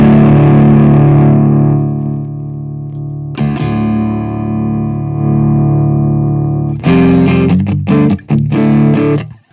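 A Laney Loud Pedal, a dual-channel 60-watt guitar amp in a pedal, drives heavily distorted electric guitar through a 4x12 cabinet: long ringing chords, a pause, then a burst of quick choppy stabs, loud and close.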